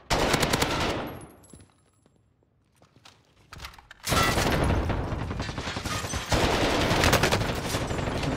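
Bursts of rapid automatic gunfire in the game Warzone, loud and close, breaking off into a quieter stretch with faint clicks and movement before heavy sustained firing resumes and continues to the end.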